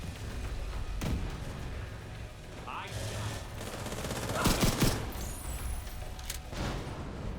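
Gunfire from the Iron Horse rifle in The Division 2 crackles through a busy firefight, sharp reports and booming shots layered over constant battle noise, with distant voices calling out beneath the shooting.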